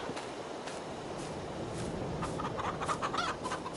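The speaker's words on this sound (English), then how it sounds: "See what's going on with the chickens." Chickens clucking in the farm video game Farming Simulator 22, a steady, busy murmur of fowl calls running throughout with a few brighter clucks standing out near the end.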